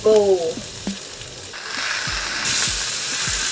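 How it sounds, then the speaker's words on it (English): Vegetables are sautéed in a pan with a soft sizzle that builds into a steadier, louder frying hiss, along with a few thumps and light clinks of utensils. "I'm going to just saute these on the side"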